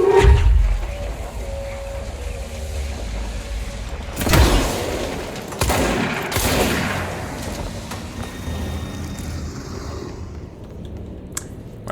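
Gun firing in Control AWE: several heavy, sharp shots spaced a couple of seconds apart over a low droning background, each with a rumbling tail.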